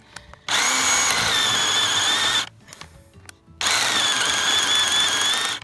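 A Craftsman lithium-ion battery chainsaw whines steadily while cutting a small tree, stopping for about a second before revving up again for another long, even cut.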